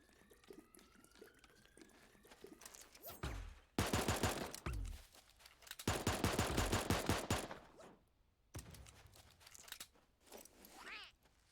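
Rapid bursts of pistol fire from dual-wielded handguns in a shooting video game, coming in loud clustered volleys separated by short gaps, with sharp cracks repeating across the stretch.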